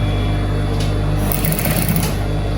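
A sewing machine stitches a dress, a steady, loud mechanical whirring hum running without a break from start to finish.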